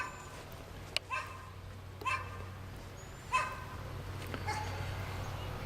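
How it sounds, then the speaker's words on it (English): A dog barks several times in a garden yard with grassy beds, the barks spaced about a second apart and moderately distant over a steady low background hum. "Yeah, there's your dog over there."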